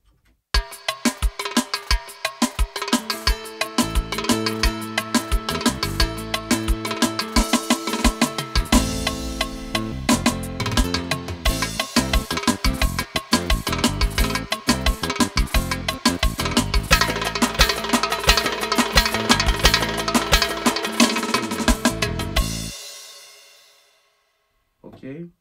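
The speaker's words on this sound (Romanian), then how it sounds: "Acum percuția este bătută la fiecare style în parte." A Korg Pa4x arranger keyboard plays a style's percussion pattern with breaks and a solo fill, giving a loud, steady, busy beat alongside melodic parts that cuts off abruptly near the end.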